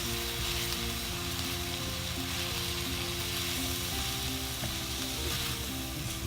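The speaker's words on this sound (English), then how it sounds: "by adding our vinegar and soy sauce, we are going to be able to deglaze the pan" Vinegar and soy sauce deglazing a hot pan of vegetables for sweet and sour pork: a loud, steady, continuous sizzle with scraping as the bottom is scrubbed with a spoon.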